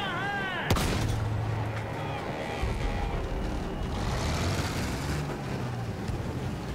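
A tank rumbles through mud in Battlefield 1, its heavy engine churning low beneath a sharp gunshot and a dense wash of battlefield noise, with scattered bursts of fire and voices faintly mixed in.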